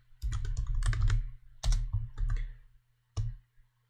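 Fingers type a short word on a computer keyboard while coding a Discord bot, several quick clusters of close, crisp key clicks separated by brief pauses.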